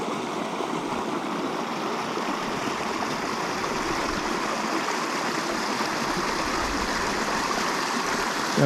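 A shallow, rocky stream at a small trail crossing flows with a constant, close, full rush and babble of water over stones, steady throughout with no talking.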